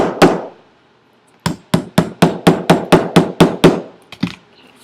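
A hammer drives a nail to pierce the pages of a visual journal, first one sharp knock, then after a pause a quick, steady run of about ten close, loud taps.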